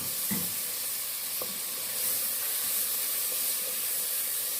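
Onions sizzle steadily in a pot, a dense, even frying hiss with a few faint clinks of stirring, close and without voices.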